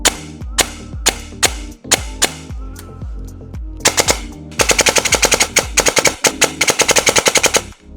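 A full-auto airsoft gun in a CQB build fires dry, snappy shots, first as single and short bursts and then as rapid sustained strings of clattering reports, close and loud with no speech.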